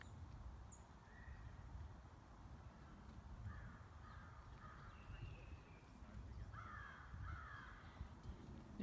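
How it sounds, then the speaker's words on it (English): A crow cawing outdoors, several distant, faint calls scattered across a steady low rumble of background noise, with no talk during the calls. "Here comes a big bird, crow."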